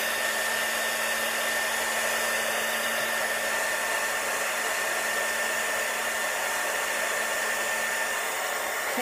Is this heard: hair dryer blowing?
yes